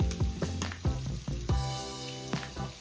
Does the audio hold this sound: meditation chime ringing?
no